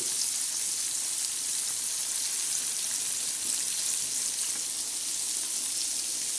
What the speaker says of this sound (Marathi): छान आणि खरपोसाचे खमंग असे आपण आज मासे तळणार आहोत पापलेट मासा